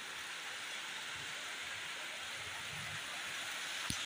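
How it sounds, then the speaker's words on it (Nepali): Hail and rain falling together, heard as a steady, dense hiss with low patters, close by and unbroken, with one sharp tap just before the end. No one speaks. "असिना पायो त गाइस, एकदम आएको आएकै छ नि।"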